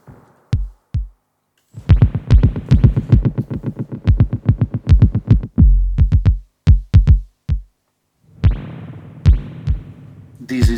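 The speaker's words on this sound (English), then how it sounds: "Now we are listening to just the spring." A Space Echo spring reverb heard on its own, with a series of sharp, close plucks and knocks, each trailing a short metallic, boingy decay, arriving in irregular bursts and clusters with brief gaps between them.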